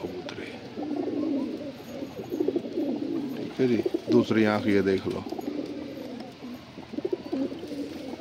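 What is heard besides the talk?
Punjabi pigeons cooing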